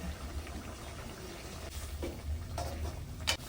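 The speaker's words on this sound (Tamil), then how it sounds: "குழம்பு நல்லா கொதிச்சுட்டு இருக்கு நல்லா கொதிச்சுட்டு இருக்கு" A pot of curry bubbling and simmering, with soft gurgling and occasional louder pops and stirring sounds close by.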